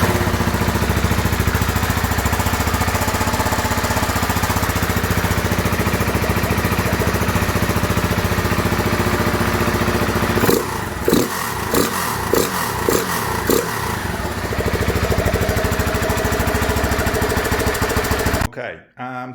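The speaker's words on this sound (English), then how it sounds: "So first thing, we'll do a quick little sound check on the exhaust before we start pulling everything apart." A KTM 690 Enduro R single-cylinder motorcycle with a Dominator exhaust idles loudly inside a garage, a steady rumbling thrum broken by a run of sharp blips and pops near the end.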